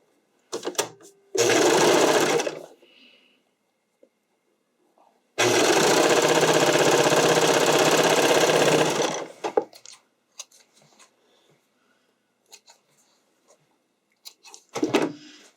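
Sewing machine stitching a figure skating skirt: two loud, rapid, even bursts of stitching, one short and one several seconds long, separated by quiet fabric handling and small clicks.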